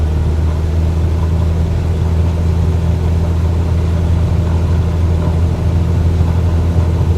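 An aircraft engine held at full throttle in a flight simulator game drones steadily and loudly for the whole stretch, a constant low, even hum with no pauses and no voices over it.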